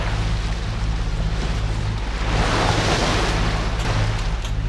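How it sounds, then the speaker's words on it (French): Short, choppy sea waves slap and wash steadily against a sailing boat off the Habibas Islands in Algeria, with a loud continuous rush of water and wind over a low engine-like hum, no voices. "Et on voit bien comme elles sont courtes les vagues."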